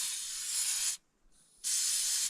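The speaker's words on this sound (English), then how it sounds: "try to spray out as much gunk as we can in there." A pressure sprayer blasts gunk out of farm equipment on a Montana farm in two loud, close hissing bursts separated by a short quieter gap, with no talking.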